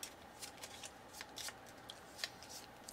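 A deck of game cards is shuffled during a Frosthaven board game session, giving several quick riffling bursts over about three seconds at a modest level, with no talk.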